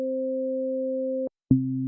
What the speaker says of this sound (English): you can see the sine wave being generated by the oscillator